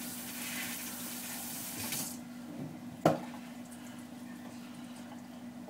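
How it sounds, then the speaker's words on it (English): Tap water runs over cooked taco meat being rinsed, a steady soft hiss that fades after a couple of seconds into a quieter trickle with one sharp knock, close and faint, without talk. "Go ahead and rinse off the meat a little bit."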